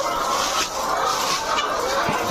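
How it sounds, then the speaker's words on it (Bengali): Chickens on a layer poultry farm in Cumilla clucking and calling steadily during morning feeding, a dense close flock chorus filling the whole stretch with no talk. "মুরগিকে সকালের খাবার দেয়া হচ্ছে"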